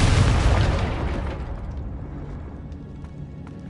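In the video game Hogwarts Legacy, a Confringo spell goes off as a loud, deep, rumbling explosion that hits at once and then fades slowly into a low roar, with no one talking.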